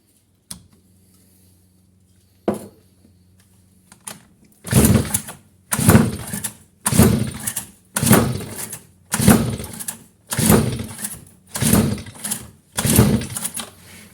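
Repeated pulls on the recoil starter of a two-stroke machine that will not start, about eight rasping strokes in a steady rhythm, close and loud, following a few isolated knocks and a low hum.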